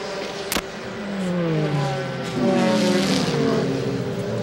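A GTS-class sports race car at Mid-Ohio, reported with a notchy gearbox, drones past with a rising engine note and a sharp shift-like crack early on, followed by a swelling roar as it accelerates, fairly loud and unaccompanied by talk.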